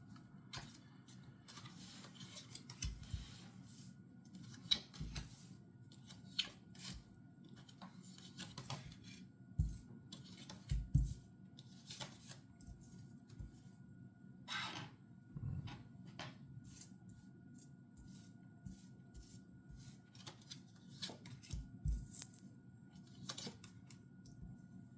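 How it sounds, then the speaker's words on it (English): Tarot cards are shuffled and pulled, making soft rubbing, sliding and light tapping sounds in scattered bursts, close and quiet over a faint low background hum. "Let's pull some cards for you."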